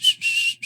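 A person whistles a short two-part tune, clear and close, with a brief break between high, bright notes and no talking.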